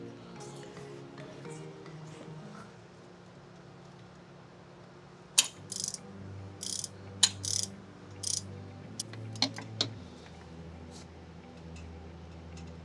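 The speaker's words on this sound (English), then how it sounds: "Now I'm going to torque down all the nuts to 15 foot-pounds." Torque wrench tightening nuts on a BMW N54 turbo: low mechanical hum in the background, then a series of short, sharp ratcheting clicks in quick bursts near the tool.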